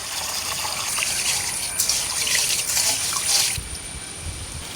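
Horse gram being washed in water, a steady close sloshing and trickling with swirling splashes for a few seconds, easing off at the end.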